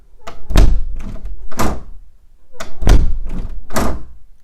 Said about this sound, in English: Now that we have the door latch all put back together, we're going to test it and make sure it works just fine.